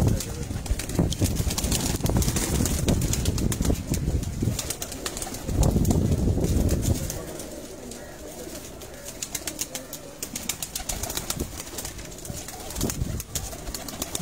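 Pigeons in Lyari, Karachi coo amid a busy, noisy background with flapping wings, rustling and clattering, a steady layered din of birds at close range.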